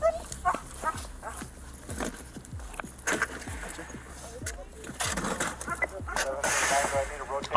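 Dogs barking indoors during a tense encounter at a home, with sharp repeated barks scattered through the clip under and between people talking.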